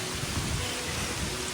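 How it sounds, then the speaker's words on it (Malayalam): Heavy monsoon rain pours steadily on a trek in Meghalaya, a dense, even roar close around with no voices and no breaks. "ഇനി ഫുൾ മഴയാണ് കേട്ടോ."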